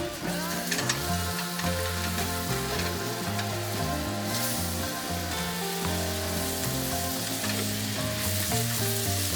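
Garlic fries in a pan for cauliflower soup, giving a steady, loud crackling sizzle close up, with faint clinks of stirring and no voices.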